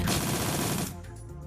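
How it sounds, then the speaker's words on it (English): Continuous rapid automatic gunfire in the Shadowrun Dragonfall video game, loud and dense for most of a second before cutting off abruptly into quieter background sound. "Shoot that one in its stupid face, and quick save."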